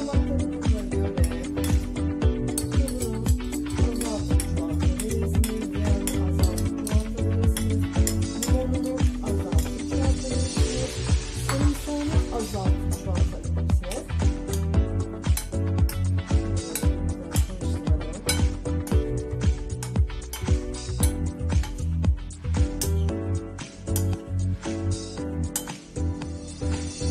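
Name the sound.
mixing sauce into broccoli salad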